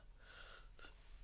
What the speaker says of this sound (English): enjoy that yawn. Wasn't expecting that one.